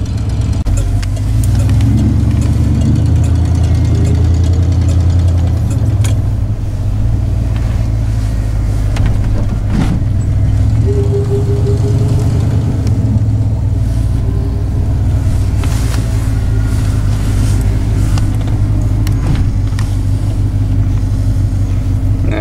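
A car's engine and road noise while driving, a loud, steady low rumble with constant tire hum and occasional faint bumps, with no voices.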